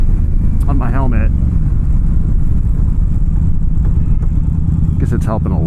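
A steady, low engine rumble comes from an Indian Scout Bobber Sixty ABS motorcycle while it is being ridden, with wind noise blended in. A rider talks over it.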